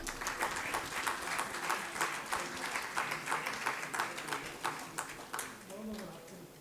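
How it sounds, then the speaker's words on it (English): An audience at a healthcare innovation session claps in a quick, uneven rhythm, moderately faint and slightly distant, while a voice talks over it near the end. "Please give him a round of applause."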